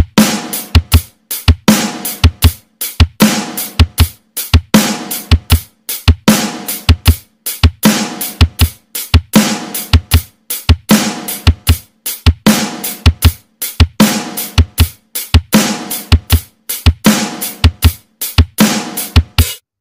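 A real drum kit plays a slow intro groove of fifteen hits at standard tempo, a steady repeating pattern of punchy kick and snare strikes with bright cymbal wash, loud and close, with no talking.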